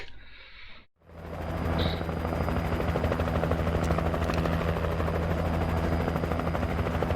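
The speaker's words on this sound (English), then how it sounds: "let's just try and follow the helicopter" A helicopter in the video game Alan Wake thunders overhead. After a brief quiet dip, a loud, steady rotor roar with a low throbbing beat fills the rest of the stretch.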